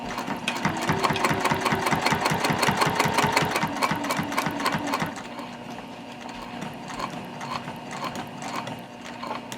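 A sewing machine stitches along the edge of a zip-top tote bag, running in a fast, steady mechanical rattle for about five seconds before dropping to a quieter, slower hum.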